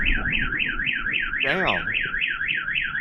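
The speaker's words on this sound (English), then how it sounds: "that's a car alarm." A car alarm in Voronezh, Russia, set off after explosions, wails in a steady rising-and-falling siren pattern, loud and continuous, with a brief burst of noise and a muttered word partway through.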